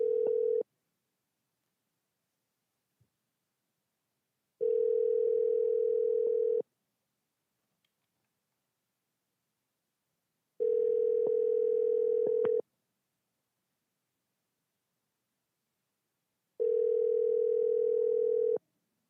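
An outgoing telephone call rings back in four evenly spaced tones, each about two seconds long with roughly four seconds of silence between them, clear and alone.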